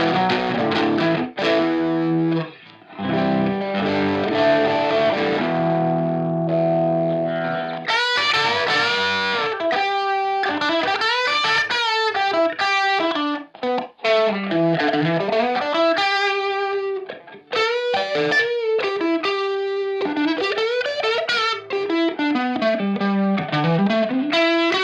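An electric guitar plays through a Maxon OD808 overdrive pedal set to heavy gain, with loud, sustained distorted notes and sliding bends in a long run of riffs and licks, played close and alone.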